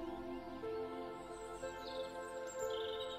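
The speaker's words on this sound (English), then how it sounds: "You can hear the birds singing as they fly over you." Birds chirp and tweet in short bright calls over a steady, low sustained tone.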